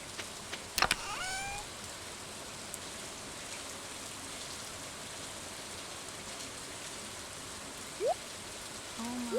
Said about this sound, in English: Since it's raining.